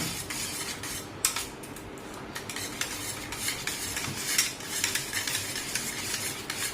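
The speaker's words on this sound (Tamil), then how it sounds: "நல்லா கலக்கணும்." A dahi bhalla mixture is stirred in a bowl with a spoon, giving close, continuous scraping and swishing with light clinks and a few louder knocks against the vessel.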